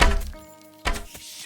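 Two solid thunks of an arrow striking a target in Kingdom Come: Deliverance II, each a sharp impact with a brief ringing tail, spaced under a second apart and fairly loud.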